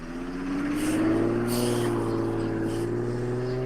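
A motorcycle engine revs up to a deep, truck-like roar and then holds a steady, loud drone close by.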